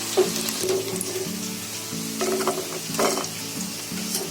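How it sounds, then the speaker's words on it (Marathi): Prawns frying in a pan, a continuous crackling sizzle with bursts of spattering and a low humming tone beneath, fairly close and steady. "कोलंबी मस्त फ्राय झाली आहे."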